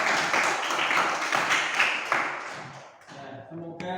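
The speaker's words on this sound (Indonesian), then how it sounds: "Tepuk tangan untuk kita." Brief burst of classroom clapping at the close of a lesson, dense and fairly steady for about three seconds before thinning out and fading into quiet.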